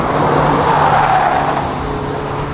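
A bone-stock Toyota MR2 brakes hard into a track chicane with loud engine roar and tyre squeal, a sustained close noise that eases slightly toward the end.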